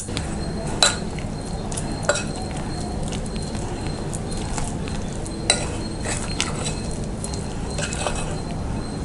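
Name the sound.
kneading vegetable pakora batter with water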